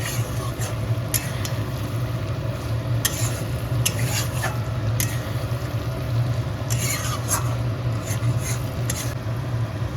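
Spice masala being sautéed in a pan for a Bengali potato and pointed gourd curry, with a steady low sizzle broken by occasional scraping stirs of a spatula, close by and continuous.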